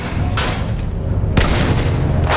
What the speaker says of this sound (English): Artillery ahead!